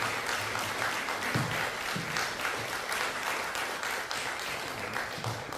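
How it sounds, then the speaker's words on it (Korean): Continuous applause from a church congregation at a Presbyterian pastor ordination service, many hands clapping in a steady, even wash that lasts the whole stretch without talk. "박수 부탁드립니다."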